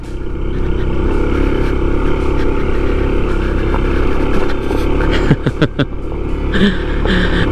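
A motorcycle rides on a rough, broken road near a dam, with a loud continuous engine drone close by and bumps and jolts rattling near the end.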